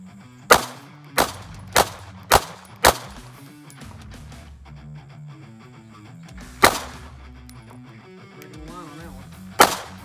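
A handgun fires at five yards during a dot torture drill: five sharp, loud cracks in fast succession, a pause, then two more spaced shots.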